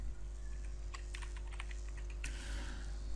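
Typing a name on a computer keyboard while setting up a Gmail signature: a quick irregular run of light key clicks, close but quiet, with a short pause and then a final tap.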